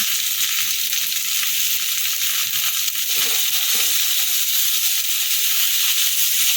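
Water spinach frying in a pan with turmeric and salt, a continuous close hiss of sizzling oil with a brief rustle of stirring midway, no voices.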